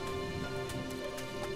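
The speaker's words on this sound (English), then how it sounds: "The rain didn't last long, but it rained hard enough to get the little calf wet." Rain falling in a Mediterranean oak forest, a steady close hiss of drops on leaves and ground with no break, holding an even loudness throughout.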